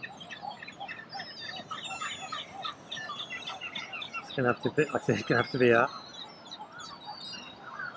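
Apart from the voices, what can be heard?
seagulls calling on the beach at Essaouira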